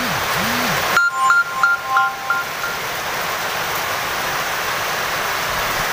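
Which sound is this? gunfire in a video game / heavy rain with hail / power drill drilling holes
heavy rain with hail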